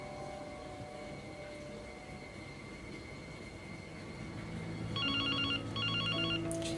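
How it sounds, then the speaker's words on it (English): A telephone rings loudly in a drama scene, two short electronic ring bursts breaking through a steady background hum. "a loud bloody phone, isn't it?"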